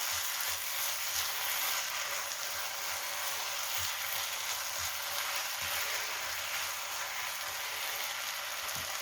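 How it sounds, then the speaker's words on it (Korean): Food stir-fried in a pan until crisp, a continuous close hiss and crackle of frying oil with faint occasional taps from the stirring utensil, steady throughout. "약간 물리게 놔두고 이야 따닥따닥 따닥따닥 네, 바짝 볶아주세요."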